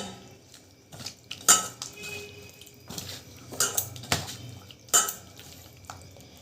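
Marinated chicken being mixed by hand with chilli powder and salt in a bowl, giving soft wet squelching and scattered clinks against the bowl, with a few sharper knocks, close and fairly quiet.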